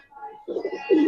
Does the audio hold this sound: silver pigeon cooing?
yes